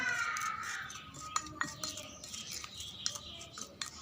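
A spoon mixes a skin-whitening paste with turmeric in a bowl, giving soft close scraping and light clinks against the bowl, quiet and irregular.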